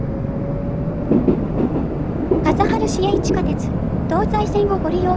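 A Tokyu 2020 series electric train pulls away in the BVE5 train simulator, its motor whine rising in stepped tones over a steady rumble of rolling wheels, close and fairly loud.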